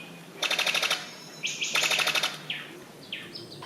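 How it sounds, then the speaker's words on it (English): Birds of paradise calling in the Papuan forest: two bursts of rapid, rhythmic chirping trills, then several short, clear calls, moderately loud against a quiet background. "The birds of paradise are icons of Papua's biodiversity."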